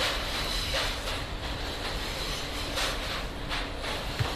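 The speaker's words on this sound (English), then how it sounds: "a dimly lit, eerie subway car, screeching and grinding around bends" Continuous rumbling roar of a subway train screeching and grinding around bends, dense and noisy with faint grinding and hissing undertones, heard from inside a dimly lit car.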